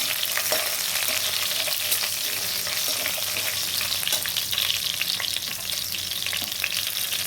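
Green and dried red chillies fry in a pan with mustard seeds, giving a loud, continuous crackling sizzle with scattered pops and stirring scrapes and no talking.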